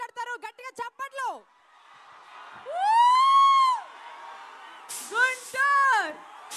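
A large crowd at a film pre-release event in Guntur cheers loudly, with rising and falling shrill whoops and yells swelling in several waves over a steady roar of noise.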